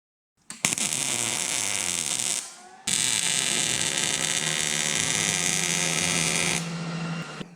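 Arc welding a nut onto galvanized pipe to attach an L-shaped bolt handle, a steady loud crackling buzz in two long bursts with a short pause between, no talk.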